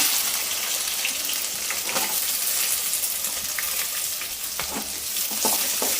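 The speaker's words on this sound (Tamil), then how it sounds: "அது பொன்னிறமாகும் வரை கொஞ்சம் நல்லா வதக்கிக்கலாம்" Small shallots sauté in hot oil for a South Indian fish kuzhambu, a loud, continuous close sizzle with occasional light stirring clicks.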